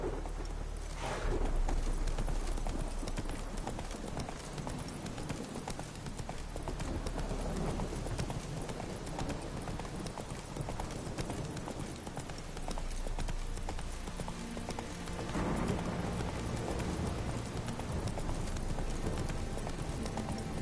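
Geralt's horse Roach clip-clops steadily through The Witcher 3, a dense, continuous run of hoofbeats under game music and ambience, loud and close throughout.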